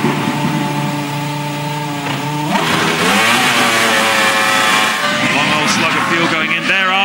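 Formula One cars, a Ferrari and a McLaren, race down the start-finish straight at the 2005 Hungarian Grand Prix, the engine note rising and sweeping past loudly over crowd and commentary ambience.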